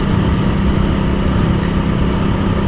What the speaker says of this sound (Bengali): আমার বাইকটা হচ্ছে হান্ড্রেড সিসি বাইক হচ্ছে হিরো এইচ এফ ডিলাক্স